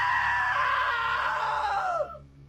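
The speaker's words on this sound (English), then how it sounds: "Now that was a great scream" A long, loud, high-pitched scream in the video game What Remains of Edith Finch. It holds for about two seconds, then drops sharply in pitch and cuts off, leaving a faint low background hum.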